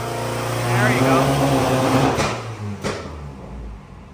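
A tuned 2024 Subaru WRX VB engine revs on a dyno, a droning harmonic tone that rises and holds, then drops away as the throttle falls off, with a couple of sharp pops near the end.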